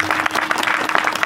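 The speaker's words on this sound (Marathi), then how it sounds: "एकदा जोरदार टाळी वाजवा." A kirtan audience claps loudly together, a full, continuous burst of applause filling the space with no voices over it.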